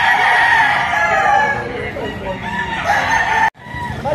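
Roosters and chickens kept by a breeder in Lipa, Philippines, crow loudly and cluck over one another, with several birds overlapping and faint voices in the background.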